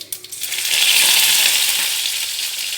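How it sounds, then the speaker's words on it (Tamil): Mustard seeds, curry leaves, dried chillies and tomato tempering in hot oil in a kadai: a sudden loud sizzle that swells and holds as a steady, close crackling hiss. "எண்ணெய் வச்சு கடுகு கருவேப்பிலை காஞ்ச மிளகா தக்காளியெல்லாம் தாளிச்சுக்கிறேன்"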